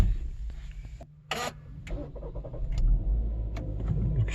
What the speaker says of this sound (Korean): 이렇게 시동을 걸고요.